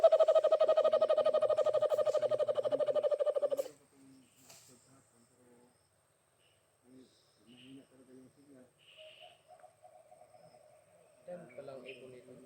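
A loud buzzing, rapidly pulsing call fills the first few seconds, followed by quieter scattered chirps and calls with brief speech.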